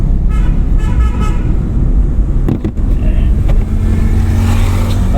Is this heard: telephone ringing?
no